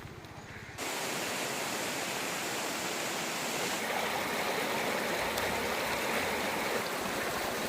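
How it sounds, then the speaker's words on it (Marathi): A small river fed by hill springs near a waterfall, rushing and gurgling in a dense, steady close-up flow that swells in after a brief quieter start and continues unbroken. "नदी कशी खळखळून वाहते बघा."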